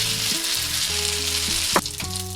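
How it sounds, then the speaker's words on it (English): Parmesan stirred into a sizzling butter, garlic and black truffle sauce for angel hair pasta, a steady close frying hiss with a brief scrape of stirring partway through, no voices. "Stir in a little bit of Parmesan cheese"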